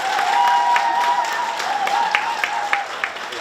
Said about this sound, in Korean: 다시 한번 힘찬 박수로 최강 의원님 모시겠습니다.